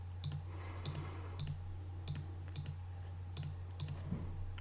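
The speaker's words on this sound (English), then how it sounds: "Oh, let me double click." Mouse clicks at a desk, sharp paired clicks recurring about every half second to second over a steady low electrical hum, close and fairly quiet, with no voices.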